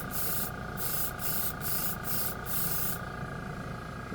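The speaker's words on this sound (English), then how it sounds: "Compressor is on again." An air compressor runs for paint spraying, a steady hum under loud, close hissing broken into regular pulses, then a continuous hiss.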